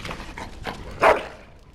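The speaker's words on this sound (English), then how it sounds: "Bloody dog." A dog in Dragon Age Origins gives a few short barks, the loudest a sharp single bark near the end, close and clear with no voices.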